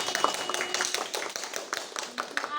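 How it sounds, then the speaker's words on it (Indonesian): A classroom of students clapping for a classmate, a scattered patter of individual claps with distinct sharp hits, fairly soft and close. "Tepuk tangannya buat Mayasari."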